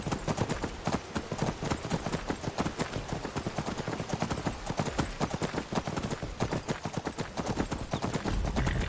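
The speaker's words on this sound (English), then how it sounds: "That horse isn't that tough." Horse hooves clip-clopping in the video game Skyrim: a dense, fast, steady clatter of hoofbeats that stays loud and close throughout, with no pause in the rhythm.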